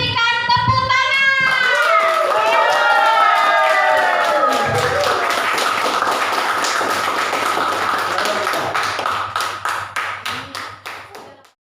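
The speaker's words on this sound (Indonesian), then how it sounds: "Mari kita berikan tepuk tangan." A group of children clap for their teachers in a school setting, a long run of quick rhythmic claps that goes on under excited young voices and ends in a few tapering claps.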